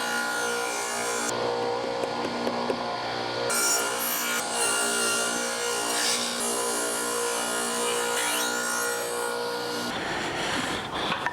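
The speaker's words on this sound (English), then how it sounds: "run the tenoning jig through the blade with the material, and then just scoot your table saw over ever so slightly until you finish cutting the tenon" A table saw runs a board through the blade on a tenoning jig, cutting a tenon: a loud, continuous whine with the wood grinding under it, ending as the motor winds down near the end.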